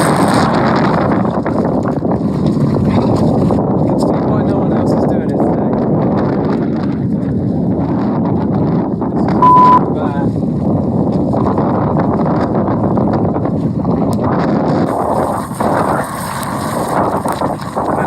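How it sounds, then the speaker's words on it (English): Strong wind roars steadily across the microphone on a Scafell Pike climb via the Corridor Route, a dense, continuous buffeting rush that persists throughout with brief gustier swells near the end. "Wind is cracking."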